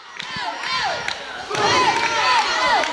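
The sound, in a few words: wrestling crowd cheering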